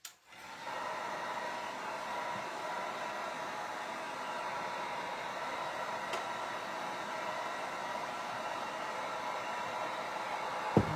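A hair dryer drying a freshly painted surface before stenciling, switched on with a click and then blowing as a steady, close, even whoosh of air for several seconds.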